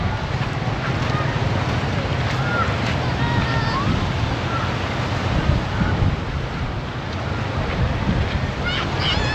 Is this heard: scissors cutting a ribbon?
no